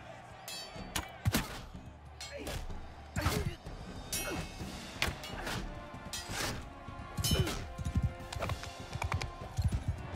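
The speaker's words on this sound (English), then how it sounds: "Oh, I'm terrible at horse back riding." Horse hooves clip-clop in a steady rhythm during riding in a video game, with occasional louder thuds and crashes breaking in over a constant background hum.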